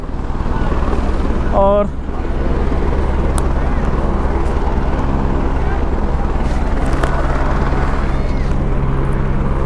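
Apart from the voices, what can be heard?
helicopters flying near Kedarnath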